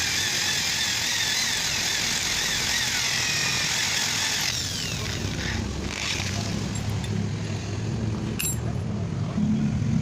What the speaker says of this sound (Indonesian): Ini di sini sudah siapkan bor, ini 5 mili ya bos.